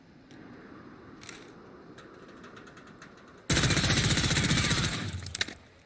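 A base AS VAL rifle with no attachments fires in Warzone as one loud, sustained full-auto burst of about two seconds, breaking sharply out of quieter game ambience and ending with a few trailing shots.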